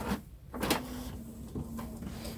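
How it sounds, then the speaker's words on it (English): Small sticker printer running in a cluttered craft room, a steady faint mechanical hum with a few brief clicks and shuffles, quiet and close. "It's printing."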